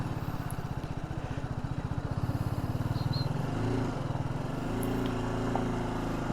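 A motorcycle engine drones steadily at highway speed on a long Indian road trip from Ujjain to Hyderabad, with a throbbing low rumble and whooshing wind noise that rises and settles over several seconds.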